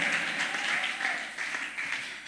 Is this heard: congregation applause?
yes